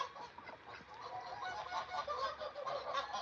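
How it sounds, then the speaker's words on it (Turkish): A flock of free-ranging geese honking continuously, overlapping calls at moderate distance with a steady background murmur. "Benim kazlar serbest geziyor."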